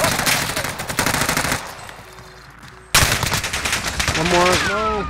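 Bursts of automatic rifle fire in Call of Duty Warzone, an AK-47, loud and rapid, cut by a short quieter gap, then another dense volley. Tonal game or effect sounds rise near the end.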